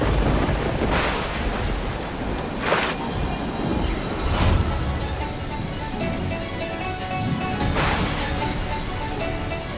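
Heavy rain pours down in a dense, loud, continuous wash, broken by a few brief louder surges and rumbles.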